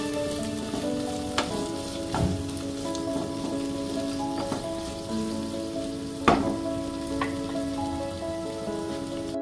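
Ginger paste and potato pieces fry in hot oil with a steady sizzle, while a utensil stirs and scrapes the pan in occasional sharp knocks; no voices.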